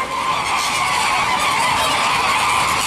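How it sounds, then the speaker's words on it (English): Flamingos at a park squawk together in a loud, continuous honking chorus, a dense overlapping clamor of many birds close by, with no talk. "And the birds are raising a ruckus about it, apparently."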